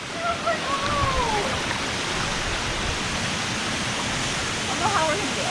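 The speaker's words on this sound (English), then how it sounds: "The waterfall's right here." A very tall waterfall on a river hike roars as a steady, broadband rush of falling water, with brief voices heard faintly over the noise.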